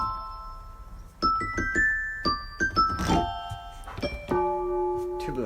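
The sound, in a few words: electronic keyboard music box sound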